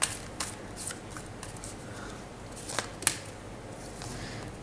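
Tarot cards are shuffled and drawn by hand, soft rustling and papery slides with a couple of sharper snaps and flicks, close and fairly quiet against a faint steady background hiss.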